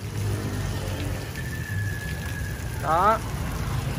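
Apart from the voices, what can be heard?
water sprayed onto a subwoofer speaker box grille to test it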